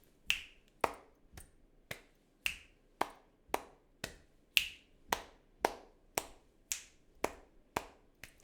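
Crisp, close finger snaps repeat at a regular pulse, about sixteen sharp clicks in a steady body percussion rhythm, alone with no talking.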